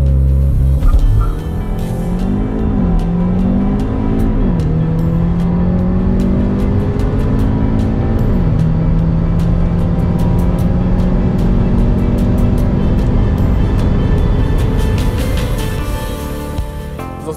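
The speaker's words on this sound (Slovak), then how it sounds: "ak aktivujete launch control, tak vás toto auto doslova katapultuje na stovku za približne 5 sekúnd" A Cupra Ateca SUV launches hard using launch control, its engine roaring loudly and climbing in pitch through successive gear changes, close and continuous for the whole run.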